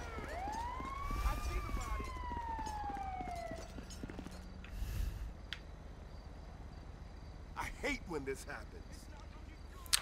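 An ambulance siren in the video game GTA with the LSPDFR police mod, its wailing tone sweeping up and down through the opening seconds before dropping away. The scene is quiet overall, with scattered thumps and clatter afterward.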